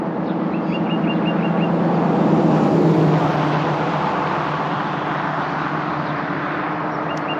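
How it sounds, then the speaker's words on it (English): A car drives past, its broad rumble swelling to a peak midway, then easing off into a steady background roar with faint chirps early on and no voices. "Here comes the car."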